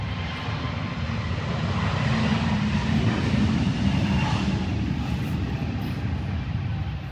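A Wizz Air Boeing 777 airliner roars steadily through its takeoff run, a loud, continuous broadband jet rumble that holds nearly constant for seven seconds with no talk over it.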